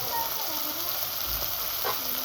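Chopped onions and shrimp sizzle steadily in hot oil in a pan, a dense, continuous frying hiss with occasional stirring scrapes, close and fairly loud.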